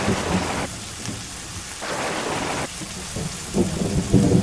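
A heavy thunderstorm with steady pouring rain hitting a surface and rolling rumbles of thunder that swell and fade in waves, no voices present.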